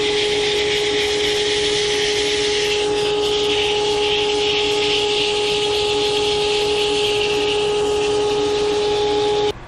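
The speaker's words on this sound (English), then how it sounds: "we're just going to start sanding this up" A wooden hollowform spins on a lathe while being sanded, giving a steady, loud whir with a constant motor hum and an abrasive rushing hiss that runs unbroken until a sudden stop.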